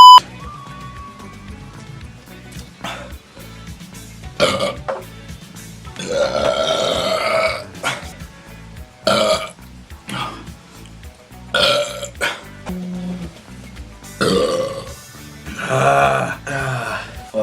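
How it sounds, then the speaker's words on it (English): A man lets out a series of loud, drawn-out burps, several long rumbling belches spaced across the clip, with brief talk in between. "A lot of burps up though, that helped."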